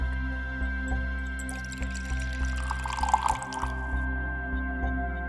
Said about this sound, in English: A babbling brook of fresh brewed coffee pouring into your